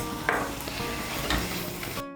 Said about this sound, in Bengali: নুনটাকে মিশিয়ে নিয়ে মশলাটাকে ভালো করে কষিয়ে নেব